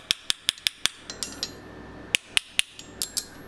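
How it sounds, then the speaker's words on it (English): A hammer gently taps metal to remove shoe sole pieces, a string of light, sharp, ringing strikes, about a dozen in quick uneven rhythm, close and clear. "I'm just going to gently use a hammer"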